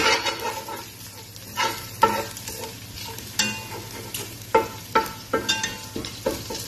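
Garlic frying in oil in a large pan for tilapia escabeche, a steady close sizzle broken by repeated scraping strokes of a spatula against the pan at an uneven rhythm.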